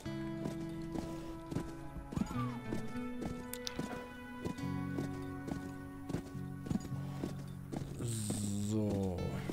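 Horse in the Western shooter Call of Juarez whinnying amid steady clip-clop hooves, with game music tones underneath and a louder neigh near the end; no speech.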